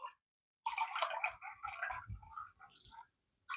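Urethane reducer is poured into epoxy primer in short, close, trickling splashes that stop and start, separated by brief silences.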